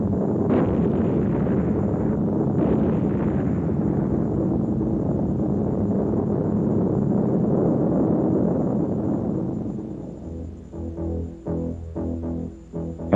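A skip bomb dropped by a B-25 Mitchell bomber explodes on its second ground contact, heard as a long, loud, rumbling blast that roars on for several seconds before fading into scattered crackles and thuds.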